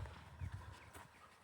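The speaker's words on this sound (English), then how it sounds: "The horses are whispering to each other." Horses on a morning walk make soft, low snorts and quiet hoof clops, faint and near in an open outdoor setting.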